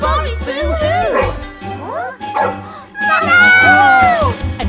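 A chihuahua's barking is voiced by a human storyteller reading a children's tale aloud. There are several short, yappy, pitched barks and whimpers, with narration woven around them.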